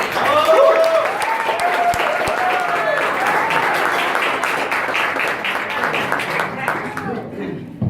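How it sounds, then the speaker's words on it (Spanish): Audience applause at a business presentation, loud and sustained for about seven seconds with voices and cheers mixed in, thinning and fading out near the end. "Entonces démosle un fuerte aplauso a Don Wilkinson, director nacional de"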